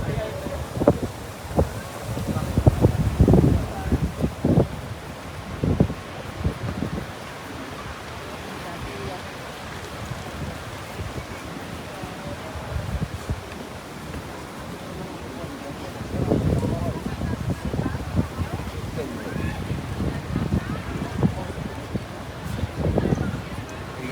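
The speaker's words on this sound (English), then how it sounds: "it's so windy." Strong wind gusts buffet the microphone at the edge of the 9/11 Memorial pools in New York, rumbling in uneven bursts over a steady rush, with a voice speaking at times.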